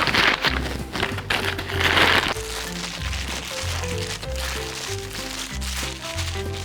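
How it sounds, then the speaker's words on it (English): Wire or tool cutting a slab from a block of clay for ceramic hexagon tiles, soft scraping and crackling close by with faint background music underneath. "I'm going to cut a slab off of my clay here"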